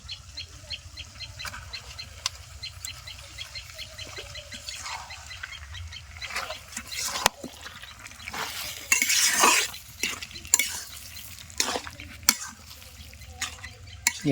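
A spoon scrapes and stirs masala frying in a pan with duck skin in a village kitchen, giving a steady sizzle with irregular clinks and scrapes and one louder flare of sizzling partway through.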